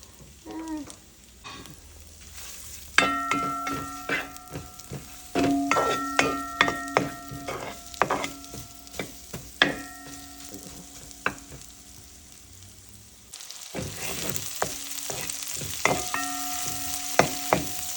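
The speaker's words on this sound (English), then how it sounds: "So I'm gonna add to that shallot and some thyme," Shallot, thyme and garlic sautéing in olive oil in a pan, a close sizzle with frequent sharp taps and scrapes of a utensil against the pan and a strong burst of sizzling near the end, no talking.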